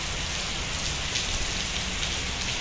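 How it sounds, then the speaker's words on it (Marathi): Steady rain pours down continuously, a dense even hiss of drops striking surfaces, with no voices and no thunder. "नाही का, पाऊस चालूच आहे."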